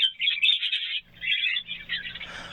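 Pet birds in cages hung outdoors in the sun chirp in quick, bright bursts of twittering, close and fairly loud, with a short pause before the chatter resumes.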